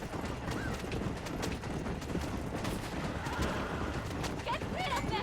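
Horses in the Red Dead Redemption video game whinny and clop along with hooves, the neighs cutting through a busy mix while people keep talking throughout.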